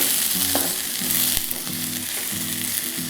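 Mixed vegetables with peas frying in a pan with a little oil, giving a loud, steady close sizzle with soft stirring scrapes and a single sharp clack, and no one speaking.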